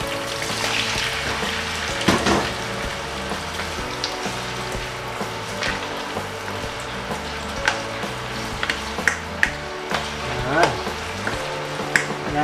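Beef and onions for caldereta fry in a pan with a steady close sizzle, punctuated by occasional stirring clicks and pops, with no talking.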